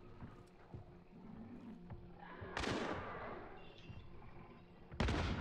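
Two heavy, sudden dynamite blasts from the video game Hunt: Showdown, one midway and one near the end, each a sharp crack with a rumbling tail over a low, busy background.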